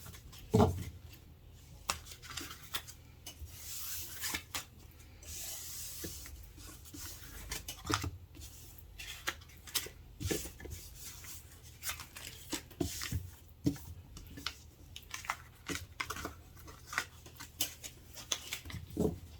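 A deck of moon oracle cards shuffled by hand, giving a long run of soft rubbing, riffling and tapping bursts that keep coming in quick irregular pulses, close up and fairly quiet.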